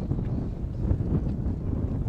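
Wind gusts buffet the microphone on choppy water while fishing from a boat, giving a continuous, loud, low rumble with no distinct speech.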